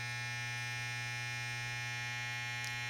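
A vintage 1937 Andis Senior electric hair clipper runs steadily with a constant buzzing mains-frequency hum and bright high overtones, unchanging throughout, close by with no talk.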